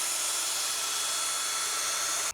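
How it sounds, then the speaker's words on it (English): A power drill fitted with a scrubbing brush works over car seats during interior detailing, a steady high whirring hum and brushing hiss running continuously before cutting off abruptly at the end. "we're gonna hit it with our drill that has the brush on it"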